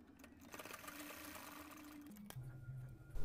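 A sewing machine stitches fabric for a Laddu Gopal summer dress, running in one steady continuous burr with a brief pitch change near the end, close and fairly quiet with no talk.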